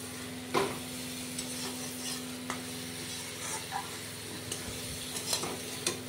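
Food being stirred in a cooking pot at a home stove, with soft scrapes and faint sizzling at an irregular pace, a few sharper clinks standing out over a steady background hum.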